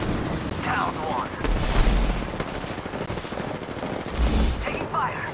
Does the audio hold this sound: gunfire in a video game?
yes